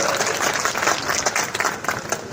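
A crowd at a BJP election nomination rally in Churu applauds with dense, steady clapping throughout, loud and close, with no break.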